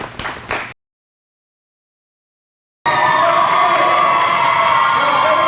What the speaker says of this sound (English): Clap it up and let's go